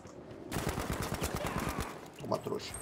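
A rapid burst of automatic gunfire in Battlefield V, about a second and a half of fast rattling shots, followed by a couple of scattered impacts.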